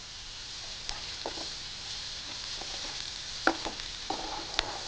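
Onions softening in a pan with a pinch of salt, a faint low sizzle under occasional light clicks and scrapes of a spatula, quiet and close with no talking.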